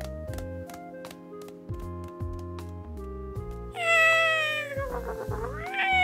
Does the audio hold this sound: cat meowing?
yes